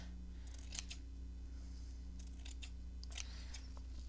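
Scissors snip through lace to make a craft tag, several crisp, close cuts in two clusters over a steady low electrical hum, with no voice.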